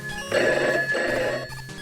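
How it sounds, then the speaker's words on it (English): A telephone in the game Mega Man 8-bit Deathmatch rings twice in quick succession, each trill loud and close. "That phone call is from Jack Walton to Felix Kranken"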